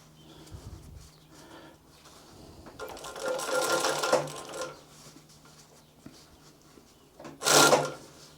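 A Typical TW3 343D heavy-duty cylinder arm walking foot machine working through a thick seam rolled over three times, with slow labored stitching bursts, rubbing of material, and a sharp loud thump near the end.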